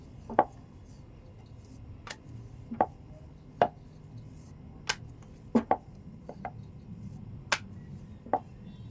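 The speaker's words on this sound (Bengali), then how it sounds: "কিভাবে দেখুন বেলছি" Paratha dough being rolled and slapped on a board for pitai paratha, heard as a series of sharp separate knocks and taps at irregular intervals, close and clear over a faint background hum.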